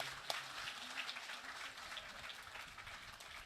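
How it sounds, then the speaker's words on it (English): An audience applauding at a Navratri celebration night, a faint, even wash of many hands clapping that carries on steadily, with one brief knock near the start. "Everyone give a round of applause."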